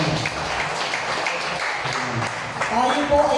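A church congregation claps during a Sunday service, a steady wash of applause running beneath a preacher's voice.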